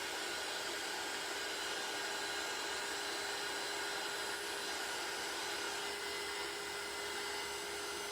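An electric heat tool blows hot air onto embossing powder, giving a steady, unbroken whirring hiss that stays constant and fairly faint throughout, with no talking.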